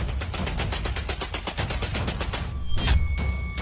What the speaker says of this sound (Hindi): कई राउंड की फायरिंग हुई है।